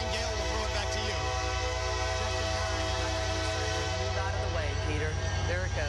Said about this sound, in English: excuse me because there's a train going by.